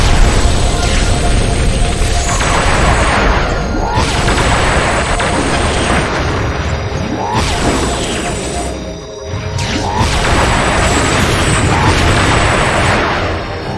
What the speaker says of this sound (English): Enemy missile closing in